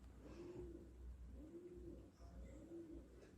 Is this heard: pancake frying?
no